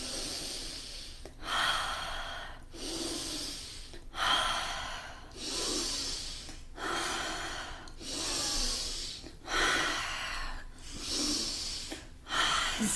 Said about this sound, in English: can you make every breath even deeper than the last one?